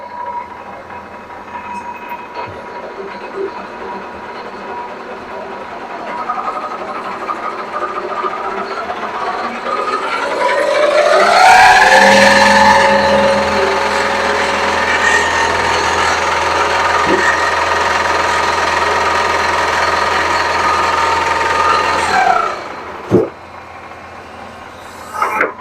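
A vintage Cincinnati machine tool, around a century old, hums loudly and steadily, its whine sweeping in pitch through the full speed range from 1800 down to 53, holding, then cutting off abruptly near the end.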